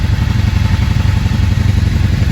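A 1995 Honda Shadow VLX V-twin motorcycle engine running after being cranked, a loud close-up throbbing idle with a rapid, even, lumpy pulse and a clattering mechanical edge.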